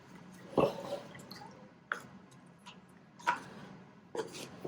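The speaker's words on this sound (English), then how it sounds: "I'm going to wash up my brush." A paintbrush is washed in water, giving faint, quiet taps and small splashes that repeat at irregular intervals about a second apart.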